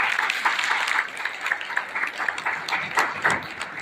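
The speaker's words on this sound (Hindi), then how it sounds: "एक बार जोरदार ताली" Audience applause at a Vishwakarma Puja gathering: a dense, steady crowd clapping that keeps a continuous wash of hand claps for several seconds with a few sharper accents.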